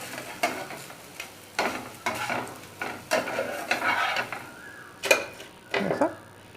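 Thin patichepta pitha batter cooks in a frying pan, with repeated scraping and tapping of a utensil against the pan over a faint sizzle, the strokes coming in uneven bursts.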